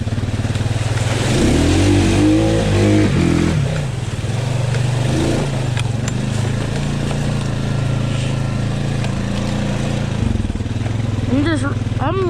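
An off-road vehicle in two-wheel drive revs hard through a flooded, muddy trail. Its engine drones loud and near with rising and falling throttle surges, and someone talks over it in places.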